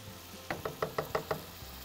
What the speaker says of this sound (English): put that in the oil. And I'm gonna let those saute just a little bit until they're soft